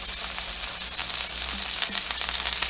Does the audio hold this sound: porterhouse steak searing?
yes